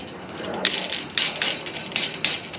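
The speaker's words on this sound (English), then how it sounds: "Take our cutters. Trim it off." Wire cutters snip wire on a metal dog pen panel, a handful of short crisp clicks spaced irregularly, close and fairly quiet over low background noise.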